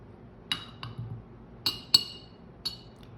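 A coffee cup being opened for a Turkish coffee fortune reading gives a handful of sharp, bright clinks of porcelain, irregularly spaced and close, in a quiet room.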